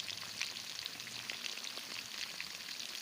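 Chicken wings deep-frying in oil give a steady, crackling sizzle throughout, dense and even with no pauses, moderately close and fairly quiet with no voices.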